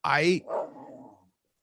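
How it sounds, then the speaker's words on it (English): A dog named Stella barks in the background, a loud harmonic bark at the start followed by a few fainter, lower calls, with people talking around it. "Stella barking in the background."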